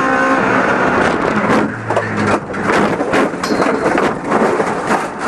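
The Tsunami, a Colombian race car known for strong performance in Antioquia motor racing, roars loudly and continuously on track, its engine noise dense and rough with slight surges and no pauses.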